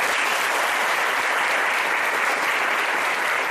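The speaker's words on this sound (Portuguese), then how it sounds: "Um aplauso para você que está no lugar certo." Dense, steady applause from a church congregation during a sermon, filling the whole moment as a continuous wash of many hands, close and fairly loud with no talking over it.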